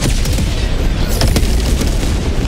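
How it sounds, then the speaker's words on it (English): A hell bomb detonates in the video game Helldivers 2, a loud, dense booming blast with rumbling low end and crackling debris, sustained over heavy battle noise with no speech. "Gotta shoot that hell bomb"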